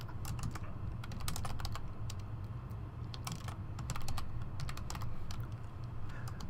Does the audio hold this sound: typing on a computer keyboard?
yes